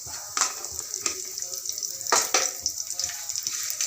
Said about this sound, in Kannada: ಕರಿಬೇವು ಒಗ್ಗರಣೆಗೆ ಹಾಕ್ತಾಯಿದ್ದೀನಿ.